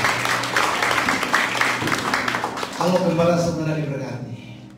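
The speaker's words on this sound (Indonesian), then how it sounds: "Tepuk tangan buat Tuhan" Congregation applause at a Christmas church service, a dense wash of many hands clapping that gives way to voices and music, with talk over it.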